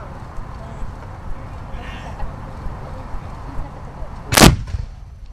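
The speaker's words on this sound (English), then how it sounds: "I would prepare you that the 3-pounder is fairly loud." Outdoors at Fort York, a 3-pounder artillery cannon fires a single sharp, loud blast near the end. Before it comes a stretch of low background murmur and faint chatter, and after the shot a brief rumbling decay.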